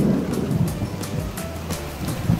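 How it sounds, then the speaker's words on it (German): Heavy, unbroken downpour on a motorboat in Holland, drumming hard on the boat's canvas cover, with low rumbles of thunder rolling underneath, loud and close throughout. "die nächsten 2 Tage regnet es ununterbrochen in Strömen"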